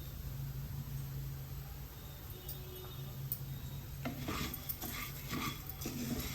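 Coriander seeds, cumin and fenugreek roast dry in a pan, a faint rustling hiss at first, then several light scraping stirs of a spoon against the metal toward the end.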